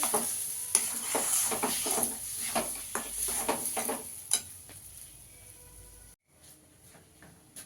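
A spoon stirs a chicken keema mixture with fennel in a pan, repeated scraping strokes over a soft sizzle that fade toward the end, ending in a brief silence and a few faint final taps.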